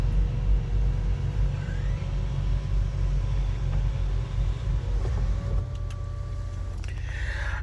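A car engine idles with a steady low rumble nearby, continuous throughout, with a faint mechanical whine and a few light clicks near the end.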